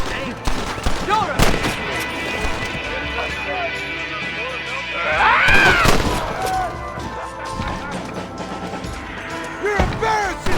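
Gunfire from the Western video game Red Dead Redemption, with repeated sharp shots cracking through a busy battle mix, a louder burst around the middle, under shouted in-game voices.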